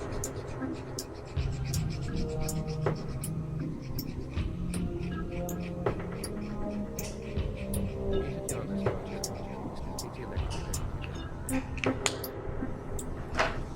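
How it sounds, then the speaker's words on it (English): Markers scratch and squeak across a fabric shirt in short repeated strokes while a voice talks over the drawing throughout. "take the rest of your markers and put some triangles, maybe like some little pizzas, all around the shirt"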